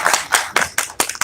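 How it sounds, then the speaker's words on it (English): Scattered hand clapping from an audience at a personal credit workshop, honoring a young woman presenter: a handful of sharp, separate claps over about a second, fairly close and irregular rather than a full sustained ovation. "Give her a round of applause again."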